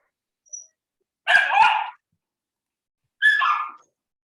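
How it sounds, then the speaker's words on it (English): Sad puppy letting out a short faint yip followed by two longer whimpering, whining barks with a pause between them, close by in a quiet room with no talking. "I have a very sad puppy because the girls left."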